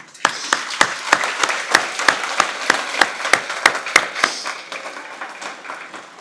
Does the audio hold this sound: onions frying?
no